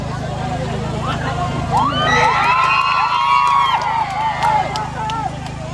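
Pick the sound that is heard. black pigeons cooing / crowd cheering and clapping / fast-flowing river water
crowd cheering and clapping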